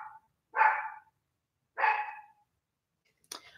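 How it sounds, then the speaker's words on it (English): A dog barks indoors, two separate single barks about a second apart, moderately close, followed by a faint short sound, with no speech. "So I, Gracie, stop barking."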